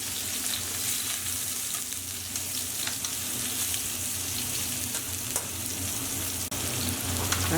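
Ćevapi, skinless sausages, fry in a pan with a steady, even sizzle that holds at the same loudness throughout, with small crackles and spits and no voices.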